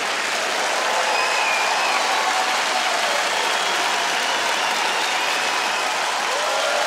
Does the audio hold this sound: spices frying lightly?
no